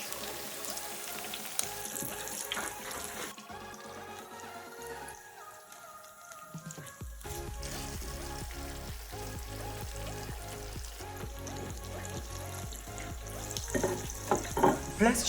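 Korean cheese corn dogs frying in oil bubble and sizzle, starting under background music that drops away, then settle into a steady crackle with scattered pops that grows louder toward the end.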